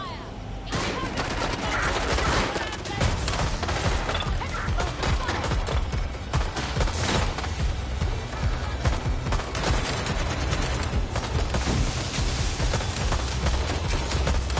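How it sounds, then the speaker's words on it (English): Sustained gunfire in the video game Watch Dogs Legion, rapid dense shots and bursts continuing throughout over a heavy low rumble, with voices occasionally heard in the mix. "Gunfire!"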